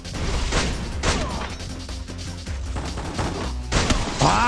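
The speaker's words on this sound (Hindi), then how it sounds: "Shotgun, shotgun versus shotgun." Shotgun fire in the video game Free Fire, heavy sharp blasts exchanged at close range, a few distinct shots with crashing impacts in between and no talk.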